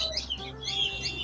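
Budgie parakeets chirp in a bird shop at a market, with bright, rapid overlapping tweets that continue without a break and sit close over a low background hum.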